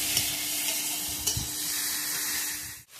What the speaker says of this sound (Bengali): এরকমভাবে কষাতে কষাতে এটা সিদ্ধ হয়ে যাবে।